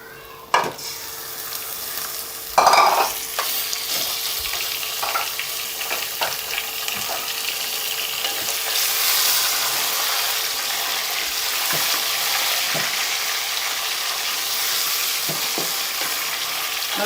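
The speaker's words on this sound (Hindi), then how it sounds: "अब 2 से 3 मिनट के लिए इसको फ्राई कर लेंगे।" Mutton pieces frying in a karahi with cumin and cloves, a steady close sizzle with stirring clatter, one louder scrape near the start, continuing evenly throughout.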